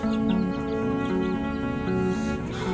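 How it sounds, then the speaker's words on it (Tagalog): Chickens and chicks kept at barracks cluck and chatter close by, a steady stream of overlapping tonal clucks and soft calls with no talk. "yung apat na manok na yan sa atin yan"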